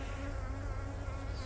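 Honey bees swarm around an open hive, a loud steady buzzing drone of many insects close by, continuous with no breaks and no voices.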